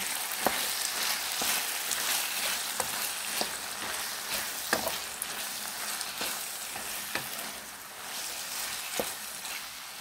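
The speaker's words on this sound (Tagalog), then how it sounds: "Hahaluan ko ng UFC ketchup. Haluin." Ground pork giniling sizzles in a frying pan while being stirred with UFC ketchup, a steady crackling fry punctuated by regular scraping knocks of the utensil against the pan.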